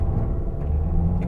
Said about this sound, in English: I'm gonna put my foot on the brake and floor it.